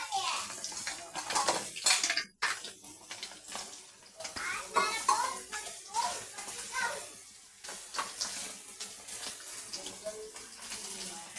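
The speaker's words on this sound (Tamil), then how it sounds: "கொஞ்சம் தண்ணி ஊற்றிக்கோங்க" Water splashes and pours into a pan of cooking chili powder mixture amid clinking cookware, with a voice and other talk nearby throughout.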